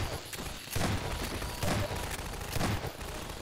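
Turret gunfire in Half-Life 2, in dense, loud bursts of rapid automatic shots that keep repeating with short gaps.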